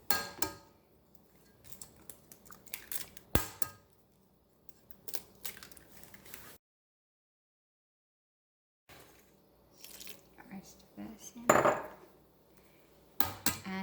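Eggs cracked into a gluten-free, dairy-free bread mixture of yeast, honey and cider vinegar, then mixed: sharp shell taps, scraping and clinking strokes in the bowl, separated by a few seconds of silence.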